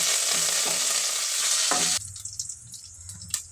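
Curry leaves hit hot oil in a tempering of chana dal, urad dal, mustard and cumin seeds, fenugreek and dried chillies, giving a loud close crackling sizzle that cuts off abruptly into quieter scattered spits and stirring.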